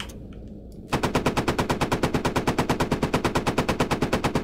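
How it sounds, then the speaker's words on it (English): The coaxial machine gun of a Challenger 2 tank in Squad opens up after a brief quiet moment. It fires a long, steady, rapid burst of loud, evenly spaced shots close by. "Loading into the coaxial machine gun."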